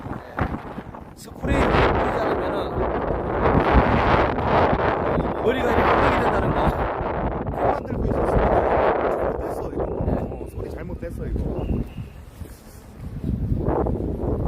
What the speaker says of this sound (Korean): 바람이 너무 많이, 많이 분다는데